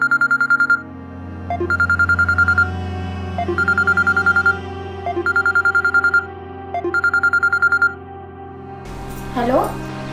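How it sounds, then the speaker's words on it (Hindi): A phone rings in a steady, repeating pattern of five electronic bursts, fairly loud and close, followed by a brief voice at the end. "गुंजा का फोन लगा लेते हैं।"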